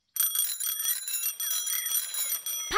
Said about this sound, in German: Freddy Fuchs hat jetzt zwei Fahrradklingeln.